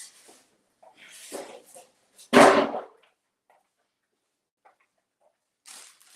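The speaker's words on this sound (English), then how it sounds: "I shouldn't be banging stuff around" Styrofoam moved and banged around in a kitchen, a few scattered scrapes and rubs, then one loud hollow knock with a rustle, and a final faint shuffle after a quiet gap.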